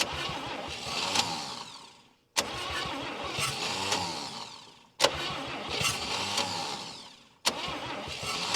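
A 1959 Chevy Biscayne that sat 20 years in a Kansas lean-to cranks over in three long bursts, the starter churning steadily without the engine catching, with brief pauses between attempts.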